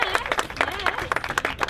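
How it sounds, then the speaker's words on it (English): A small crowd claps for a poet being introduced at a Columbus gallery hop event, scattered uneven claps mixed with voices and chatter, close and lively. "Clap it up for Vi"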